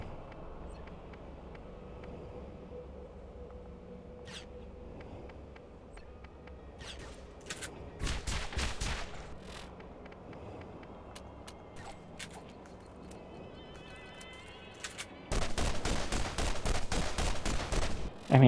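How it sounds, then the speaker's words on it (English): Gun firing in Borderlands: Game of the Year Edition, with scattered single shots, then a rapid automatic burst, and a final sustained loud rattle of fire over a quiet rumbling background. "Just literally the same gun, just a different firing sound."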